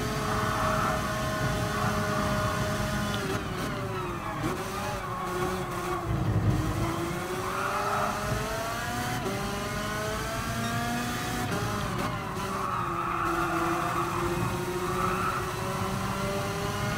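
Go-kart engines race in Gran Turismo Sport at Willow Springs, a steady buzzing drone with rising and falling revs as karts accelerate and pass, loud and continuous with no talk.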